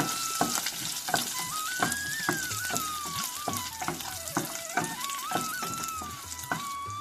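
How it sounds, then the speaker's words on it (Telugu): Hot oil crackles and pops sharply in quick irregular bursts as spices splutter, with a steady sizzle underneath. "పోపు ఎగిపోయిందండి"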